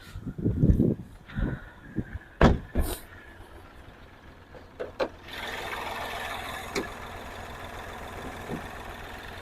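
A Hyundai i10 Era engine idles with a low, steady hum that settles in after a few louder knocks and clunks near the start, close by and with no talking.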